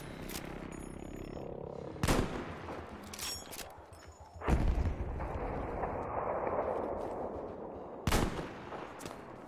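Sniper rifle gunfire in a first-person shooter: three loud, cracking single shots spaced a few seconds apart, each with a rolling echo tail, over quiet background game ambience.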